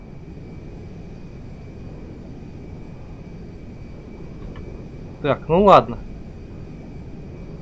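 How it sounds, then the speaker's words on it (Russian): Airplane engine drone in GTA 5 during a flight, a steady low broadband hum running throughout, with a brief louder burst of game voices and radio chatter near the end; someone talks briefly over it. "Теперь нужно как-то посадить этот долбанный самолет"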